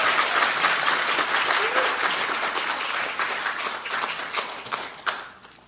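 An audience at a Democratic Party event gives sustained, dense applause that holds steady and then thins out into scattered claps toward the end.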